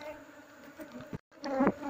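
Bees buzz close by as their nest is removed, a brief busy hum with a short break and a louder burst of buzzing at the end.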